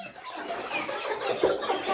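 Soft clucking from a young New Hampshire rooster, brief and close, over a muffled barnyard background.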